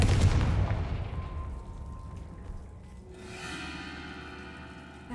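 Confringo fire spell blast in Hogwarts Legacy: a loud, close burst that opens the moment and fades into a rumbling decay, followed by a softer shimmering magical tone.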